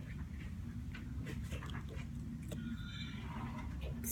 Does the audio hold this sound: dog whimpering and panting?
yes